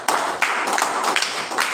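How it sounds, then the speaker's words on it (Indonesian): A church congregation claps together at a year-end worship service, a brief burst of several strong rhythmic beats close by with no talking over it. "Tepuk tangan buat Tuhan Yesus."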